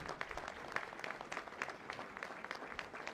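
Audience applause at a Brazilian political party event honoring leaders, a moderately quiet, steady patter of clapping from a crowd with a few sharper claps standing out.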